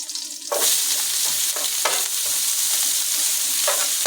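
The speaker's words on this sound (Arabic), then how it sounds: "هنزل الاول شويه بصل" Onion goes into hot fat in a pan for a home-style dish, setting off a sudden loud sizzle that keeps up steadily, broken by repeated stirring scrapes, with no voices.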